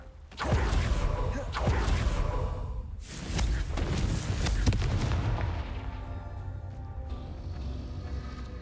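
Blasting-spell explosions in the Hogwarts Legacy video game, several loud booming bursts with whooshing impacts in quick succession, the last one decaying into a ringing tail.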